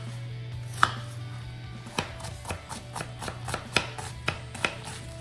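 Half a regular onion is diced into very small cubes with a knife, giving a series of crisp, irregularly spaced chops on a board, close and clear over a steady low hum, with no talking.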